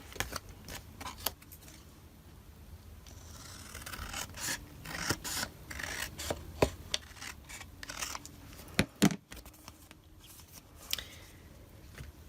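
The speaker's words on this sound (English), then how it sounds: "So I'm just going to trim around the outside of these." Paper cards being trimmed for card making, with quiet scissor snips, paper rustling and rubbing heard close up and irregularly spaced.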